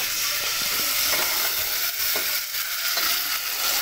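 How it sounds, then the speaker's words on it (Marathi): Dal is added to hot oil in a pan over a low gas flame for tadka, raising a steady close sizzle broken by light scraping from stirring. "तर एवढा मी टाकत आहे डाळ."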